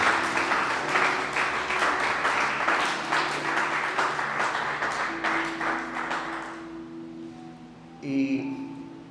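A church congregation gives the Lord strong, sustained applause with rhythmic clapping over a held musical tone; the clapping fades out, then a short bright chime sounds near the end.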